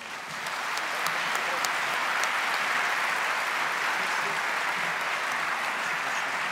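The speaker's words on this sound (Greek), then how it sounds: "Ένα χειροκρότημά σας" Sustained applause from an audience at a Greek awards ceremony for sustainable, innovative and responsible entrepreneurship, a dense steady clapping that swells in within the first half second and holds evenly loud throughout, with no talk over it.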